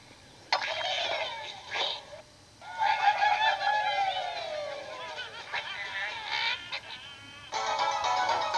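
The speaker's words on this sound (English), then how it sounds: "You can hear the birds cheering and angry and stuff." Cartoon bird squawks and chirpy cheering voices from the Angry Birds game on a Nokia N900 phone, a few bursts of squeaky calls separated by short quiet gaps.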